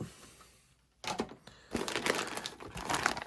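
A plastic bag full of RC car parts crinkles near and faint, starting with a soft rustle, then sharper crackling bursts as the bag is handled and squeezed.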